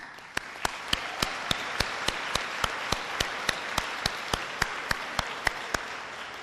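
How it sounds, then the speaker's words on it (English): Audience at a high school athletic banquet applauding the boys team, a steady wash of clapping with sharp, evenly spaced accented claps cutting through throughout. "would you please join me in a round of congratulatory applause for our boys team"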